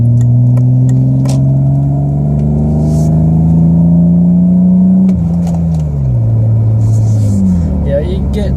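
A BMW E30 or E36 straight-six engine revs loudly and close, its pitch climbing steadily before dropping and rising again, with speech faintly heard over it.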